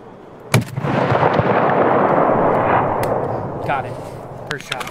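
A single sharp .338 Lapua rifle shot cracks loudly, followed by a rolling echo and rumble that lingers for several seconds, with a few faint clicks and movement sounds afterward.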